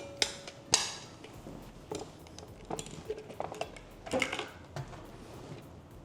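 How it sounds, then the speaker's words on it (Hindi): Chili thecha being coarsely crushed for a Maharashtrian recipe, heard as irregular knocks and clattering pounding strokes, fairly faint and close, with scattered sharper hits throughout. "अब पीस लेते हैं"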